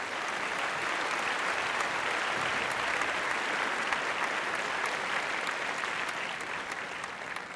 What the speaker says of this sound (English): that deserves a big applause